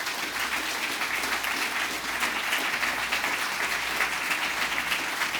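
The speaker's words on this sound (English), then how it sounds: "Give yourselves a huge round of applause." A conference audience at a technical scholar session gives a long, even round of applause, many hands clapping continuously and close by with no voices over it.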